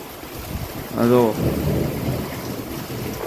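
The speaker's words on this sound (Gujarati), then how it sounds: "बहु वरसाद आज आगाही नती तो वरसाद से बहु पवन है रे बहु गाजे से" A deep rumble of thunder rolls in over steady heavy rain and strong wind in a summer storm, with a brief voice-like tone partly masked by the storm.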